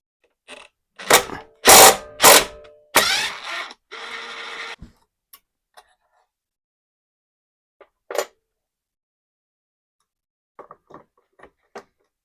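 Bolts of 10 mm are driven out of a Honda lawnmower engine bracket. A few loud, close bursts of power-tool whirring open the passage, then sparse light clicks and taps of metal parts follow with quiet gaps between.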